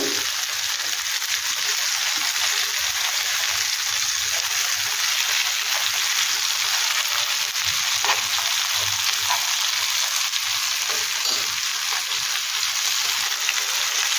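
Chicken legs fry with spices in a pan over medium heat, a steady close hiss and sizzle running without a break, with faint stirring scrapes now and then and no talking.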